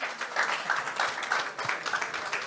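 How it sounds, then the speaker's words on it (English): Audience applause at a funding-pathways speaker session, steady broadband clapping from a crowd sustained through the whole stretch at moderate level, no voices over it. "Can we please give her another hand of applause?"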